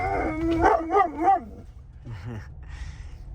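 A dog inside a car barks and yips in a quick excited burst at another dog outside, then lets out a few softer whining yelps, close and loud at first and quieter afterward.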